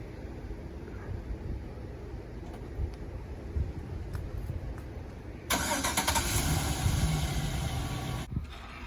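A truck engine turns over and catches via remote start on a snowy winter morning, a sudden steady rumble surging in partway through and running loud and close, then cutting abruptly near the end.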